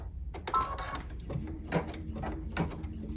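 A computerized embroidery machine stitches appliqué leaves in green thread on fabric, giving a quick rhythmic mechanical chatter of needle strikes with faint whirring between them, close and steady.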